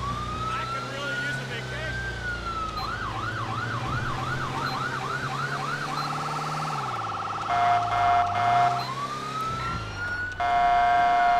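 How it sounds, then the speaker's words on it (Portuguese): A GTA V police siren cycles through rising wails, a rapid yelp, and steady two-tone blasts, loud and continuous, with a low engine hum underneath. "Os pedestres não respeitam a sirene, né, cara?"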